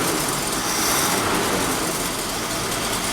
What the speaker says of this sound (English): if you listen, like the engine's got a kick to it, you know